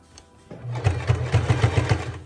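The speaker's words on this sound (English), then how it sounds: "what I'm doing is sewing the sides that are pinned" A sewing machine sews the pinned sides of a fabric face mask. After a quiet start, close, loud rhythmic stitching thuds in a quick, even run.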